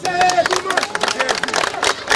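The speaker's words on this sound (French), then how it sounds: "Je voudrais que vous vous applaudissiez vous-même d'abord." A crowd of protesters at a street march claps together, loud and close, with voices and chatter running through the sound.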